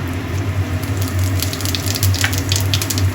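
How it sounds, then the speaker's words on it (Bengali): Whole cumin seeds tempered in the leftover hot oil after frying fish heads, a steady close sizzle and crackle of frying with no voices. "এই অবশিষ্ট তেলের মধ্যেই আমি হাফ চামচ গোটা জিরে ফোড়ন দিয়ে দিলাম"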